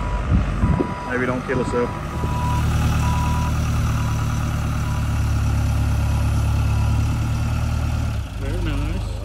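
Engine idles with a low steady rumble beside a lift machine, preceded by a few short repeated beeps; a person speaks briefly at the start and more talk and beeping return at the end.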